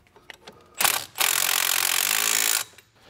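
A power tool or ratchet tightens the nut on the pinch bolt of a BMW E90 steering knuckle, with a few faint clicks before a short burst and then a sustained, loud, close whir lasting over a second before it stops.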